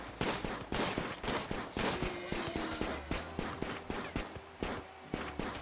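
Rapid gunfire from a hunt in RimWorld, with a pistol among the weapons, as repeated sharp shots crackle in quick irregular bursts for several seconds, loud and close, with no talking over them.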